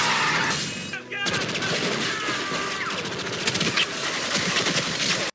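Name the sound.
gunfire in movie scene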